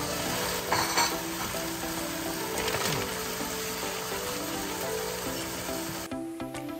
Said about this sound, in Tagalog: Lalagay na natin yung shrimp.